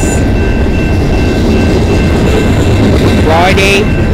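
A train passes on the Dundas Sub rail line at Colborne Street in London, Ontario. It makes a loud, steady, close rumble and roar throughout, with a brief tonal whine near the end.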